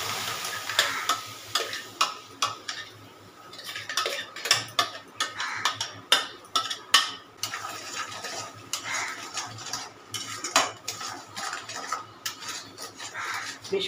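Mango pulp and sugar are stirred in a pan while cooking for mango kalakand, with irregular spoon scrapes and knocks against the metal over a soft background sizzle.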